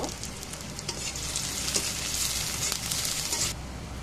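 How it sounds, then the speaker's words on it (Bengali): Chopped onions fry in hot oil in a pan with a dense, even sizzle, close and steady for several seconds, with a few faint stirring knocks. "পেঁয়াজ কুচি দিয়ে দিব। পেঁয়াজটা একটু ভেজে নিব।"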